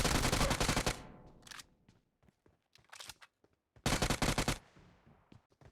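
In a BGMI battle royale game, bursts of rapid automatic gunfire knock down enemies, loud and close. Short gaps in between carry faint shots and footsteps, then another heavy burst follows.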